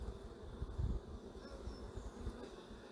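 Honey bees swarm around an opened beehive in early spring, a dense continuous buzz filling the air close by with shifting hum and a few louder passes near the microphone.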